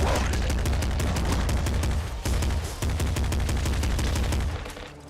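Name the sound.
pop rifle gunfire in the video game Nuclear Throne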